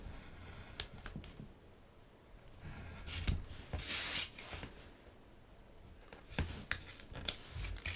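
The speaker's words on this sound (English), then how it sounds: "And that's how we cut out these pieces." Scissors cut pieces out of a 12x12 paper sheet during paper crafting, producing soft scattered snips and rustles close by, with one louder burst of paper handling midway.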